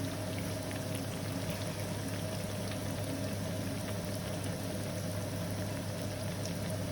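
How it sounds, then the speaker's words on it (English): Steady, dense sizzling and crackling of frati carnival dough frying in hot oil at 160 to 170 degrees, continuous and fairly loud throughout with no talking. "That is the perfect temperature for frying."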